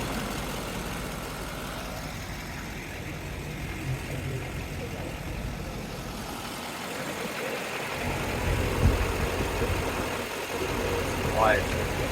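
A 2006 Chevrolet C4500 Topkick Kodiak truck with a Duramax 6.6L diesel idles in a low, steady rumble, with someone talking over it throughout.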